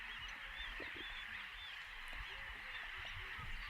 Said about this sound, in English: There's lapwings all over the place.